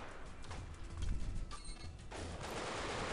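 Gunfire in the video game Black Hawk Down, a loud burst of rapid automatic shots mixed with thuds and game noise, fading into a continuous rushing background.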